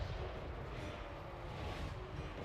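Cannon batteries in the Total War: Warhammer III battle game firing on enemy mortars, a dense, continuous roar of booming artillery blasts layered over one another, with no voices.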